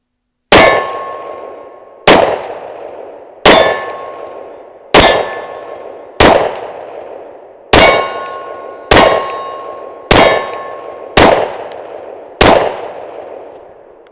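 A SIG P365 9mm pistol fired ten times at a steel target, each sharp shot answered by a ringing metallic clang that decays between rounds, spaced roughly a second apart, loud and close, with no talk.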